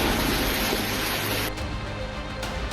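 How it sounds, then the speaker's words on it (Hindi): Ganges river waves flooding a ghat in Varanasi during heavy monsoon rain, a dense, continuous rush of churning water close by, loud and steady, with the texture changing partway through as the flow shifts. "गंगा की लहरें इस ऐतिहासिक घाट को पूरी तरह निगल चुकी हैं"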